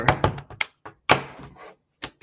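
A deck of tarot cards is shuffled by hand, giving a few quick riffling bursts and crisp taps separated by short silences, close and clear with no talking.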